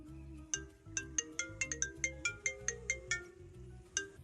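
A mobile phone rings for an incoming call from an unknown number, a quiet repeating electronic melody of bright, plucky notes playing on its own.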